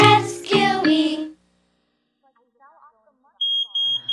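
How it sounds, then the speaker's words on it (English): A household smoke detector alarm sounds in short, loud, shrill beeps repeating quickly, following a burst of speech and a quiet pause. "Smoke detectors make a loud noise if there is a fire."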